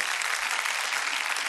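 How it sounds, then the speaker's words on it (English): Brief burst of dense applause from a small audience at a podcast taping, steady and close with no break. "I give him a round of applause"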